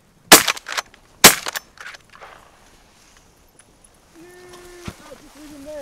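Two loud, close 20 gauge shotgun blasts ring out about a second apart while goose hunting, then fade to quiet before faint honking calls rise.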